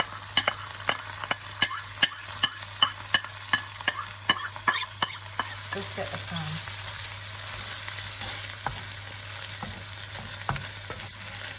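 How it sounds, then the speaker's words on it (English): Tomato sauce sizzles steadily in a frying pan while a utensil taps and scrapes in a quick irregular rhythm. A few words are spoken briefly. "I'm going to pour the tomatoey sauce into the frying pan."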